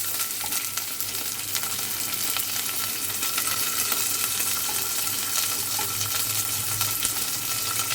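Curry leaves and onions sizzle steadily in hot oil for a tomato pulusu tempering, a dense, even frying crackle that holds close and constant throughout with no voices.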